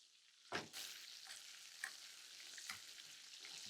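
Eye fillet steak sizzling in a pan as thyme butter with beef juices is spooned over it, a steady close frying hiss punctuated by a few sharper spoon-scrape and splash accents, no voices.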